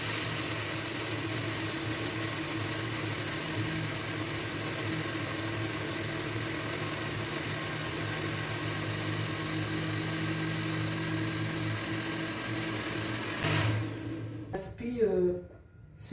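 Kitchen blender running at maximum speed, blending houmous made with sesame and a cup of water; a steady, dense motor whir holds for most of the stretch, then cuts off near the end, followed by a few brief clattering sounds.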